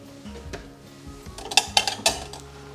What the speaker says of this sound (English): I shall grab another bowl